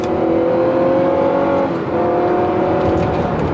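A 2010 Chrysler Town & Country minivan with a 4.0 engine runs under load, its steady drone dipping briefly mid-way as the transmission shifts before climbing again.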